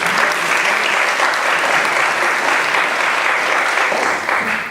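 Sustained audience applause fills a high school auditorium at a male engagement program, dense steady clapping throughout, loud and unbroken, easing slightly near the end.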